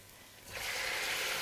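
Tomatoes hit a hot pan while making a Sicilian eggplant and tomato sauce, setting off a sudden, steady sizzling hiss that swells and holds, fairly soft and with no talk over it.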